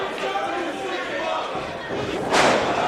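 A jawbreaker lands in a House of Glory wrestling match between two wrestlers, a brief impact and swell of crowd noise rising near the end over a steady din of arena murmur and commentary talk.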